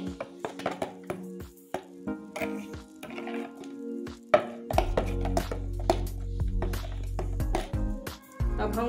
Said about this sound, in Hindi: अब इन सारी चीज़ों को हम अच्छे से मिक्स कर लेंगे